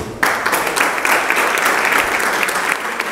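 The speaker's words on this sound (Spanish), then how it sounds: "también merecen un aplauso ustedes" An audience in a hall breaks into loud, sustained applause that starts abruptly and continues as a dense, even wash of clapping for about three seconds.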